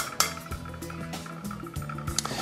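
Plasticine mixture stirred in a bowl, giving repeated light clinks and scrapes of a utensil against the bowl in an irregular rhythm, close and clear with no talking.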